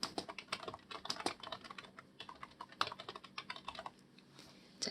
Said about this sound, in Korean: 차트 제목, 출력 형태를 참고해서 타이핑 하도록 하겠습니다.